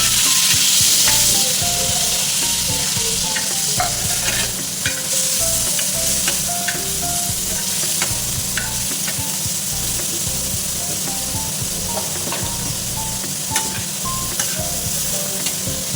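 Mutton liver (kaleji) frying on a hot tawa in oil over high heat, with a continuous loud sizzle and repeated scraping and clinking of a spatula as the pieces are stirred, no voices.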